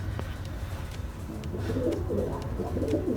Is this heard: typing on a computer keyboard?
no